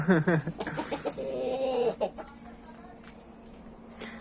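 Chickens and roosters cluck outside their coop, a burst of close, lively clucking at the start that thins into scattered softer calls over faint background noise.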